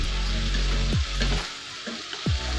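Potatoes frying in a pan for a vegetarian aloo bhaja, a loud close crackling sizzle with brief stirring scrapes and short dips in the hiss, no talking.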